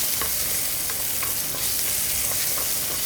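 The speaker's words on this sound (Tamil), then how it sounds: "இது எல்லாத்தையும் நல்லா வதக்கி விட்டுறலாம்." Shallots, garlic, ginger, tomato, fennel seeds, cumin and coconut saute in hot oil with a constant loud sizzle. Faint scraping stirs recur through the frying, with no talk.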